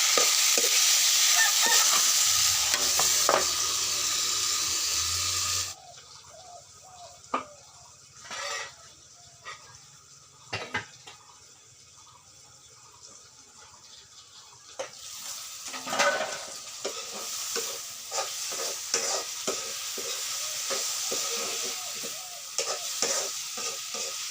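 Potatoes fry in a pan: a loud, steady hiss at first, then quieter stretches with utensil clatter and scraping before the sizzle swells again, close and without talk.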